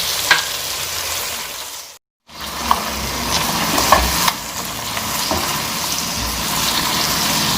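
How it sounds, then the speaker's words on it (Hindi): Garlic and ginger frying in a pan for biryani, a steady close sizzle with occasional stirring scrapes, briefly cutting out for a moment before continuing. "इसकी अच्छे तरीके से बुनाई करेंगे ताकि लहसुन और अदरक अच्छे तरीके से कुक हो जाए"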